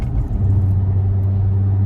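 An Audi B9 with an ECS Tuning X-pipe exhaust rumbles with a deep, steady low drone, heard close from outside the vehicle, holding constant without revving.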